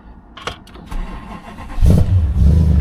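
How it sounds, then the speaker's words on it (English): An aging Audi S6 fires into life with a starter whirr and a low engine rumble swelling at the end, close and loud, with no talk over it. "In fact, I'll start it up for you."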